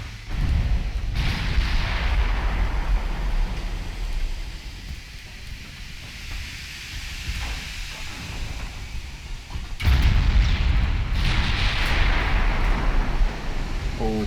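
Heavy naval guns boom in Ultimate Admiral Dreadnoughts, deep rumbling blasts rolling into a long low wash, with a fresh loud salvo about two-thirds through.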